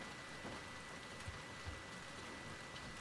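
Steady, faint rain hisses and patters over a wet outdoor scene in The Last of Us Part II, a soft even wash with a couple of slightly louder drops and no voices.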